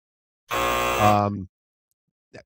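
A loud, harsh buzzer blares for about a second, then cuts off, followed by a brief faint noise, signalling a stall during an ultimate frisbee broadcast.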